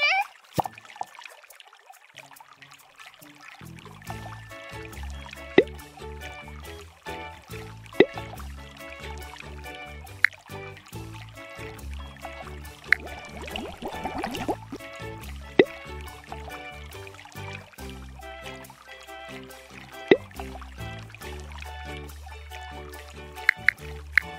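Water trickles and pours in the Splash Dash kids' game, with a continuous liquid flow under bouncy game music and sharp clicks, plus occasional speech.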